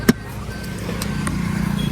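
A car that has run low on petrol runs with a steady low engine hum after a sharp knock at the start, with no voices.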